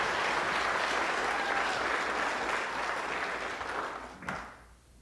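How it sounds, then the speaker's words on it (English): Wedding guests break into sustained, dense applause from a full room, holding steady before tapering off near the end with a few last claps. "Can everyone give a round of applause for the Gulls and Canes also for putting this wedding together?"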